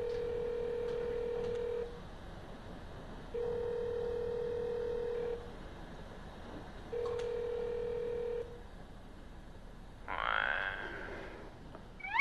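A telephone dialed at night, with long steady ringback tones sounding three times at even intervals, separated by quiet gaps, followed by a short burst of faint distorted sound from the line.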